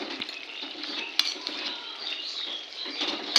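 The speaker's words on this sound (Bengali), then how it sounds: "এখন আমি এই হাতাটা দিয়ে কটা আলু গলিয়ে দেবো" A metal ladle mashing potatoes in a cooking pot of thankuni leaf curry, soft steady scraping and clinking against the pot with a few sharper taps, close and alone.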